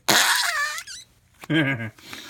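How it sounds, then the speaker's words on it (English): Fingers squish into slime, letting out two wet, rubbery farting squeaks with a short pause between them, loud and close with no talking. "I put my fingers in the slime. It makes a really awesome farting sound."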